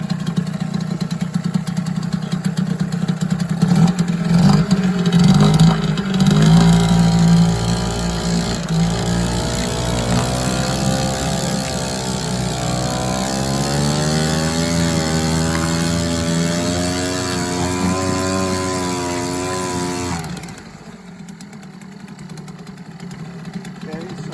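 A Sears GameFisher 3.0 outboard boat motor runs steadily up close, its buzzing idle rising and wavering in pitch before cutting to near silence at the end; a voice speaks briefly over it.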